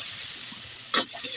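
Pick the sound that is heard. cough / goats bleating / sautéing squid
sautéing squid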